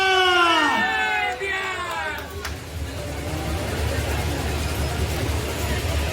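At a Bihar political rally in Ziradei, a loud shouted call opens, then a crowd roars back a slogan and keeps up a sustained, rumbling cheer from many voices.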